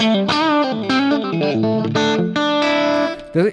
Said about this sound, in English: So the sounds is on the limit of the distortion.